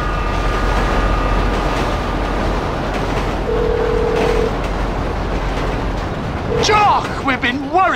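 A train rolls past in the Grand Theft Auto V video game, a steady loud rumble throughout with whistling tones near the end, alongside game voices and effects.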